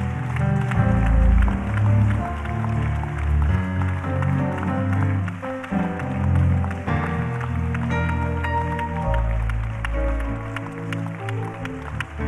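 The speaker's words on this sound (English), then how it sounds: "Let's just clap our hands all across." Church congregation clapping hands during a Saturday morning gospel conference session, steady claps blended under loud live worship music with organ and band.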